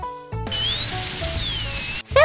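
A dentist's drill in the Hippo Hospital video game whines steadily as it removes cavities, a loud sustained electronic drilling tone whose pitch slowly wavers up and down, alone without talk.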